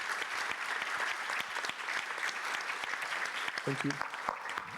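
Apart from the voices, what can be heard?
audience applause for speakers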